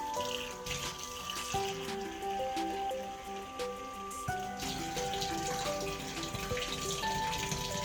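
Tap water running steadily into a kitchen sink, filling over several seconds alongside steady household background noise, with no talking.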